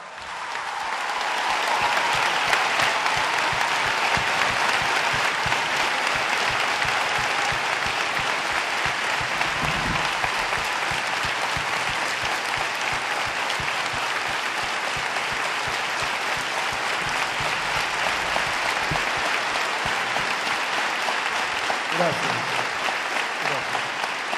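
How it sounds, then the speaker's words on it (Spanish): A large audience at the closing of a provincial health congress in Mar del Plata applauds health workers, a dense, steady wash of clapping that holds loud for over twenty seconds, with a few shouts and voices mixed in. "todas y todos los compañeros trabajadores y trabajadoras de la salud de la provincia de Buenos Aires que bancaron estoicamente esta pandemia, un aplauso"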